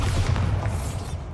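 Bombarda spell blast cast in Hogwarts Legacy, a short heavy booming burst with rumbling low end that stays loud and dense before a brief decay.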